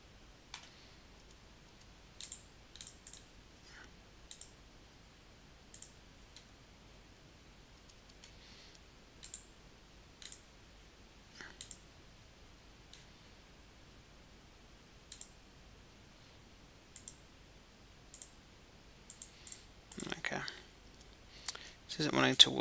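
Sparse, faint computer mouse clicks come one at a time at irregular intervals while a blend curve is set up in CAD software, with a burst of louder noise near the end.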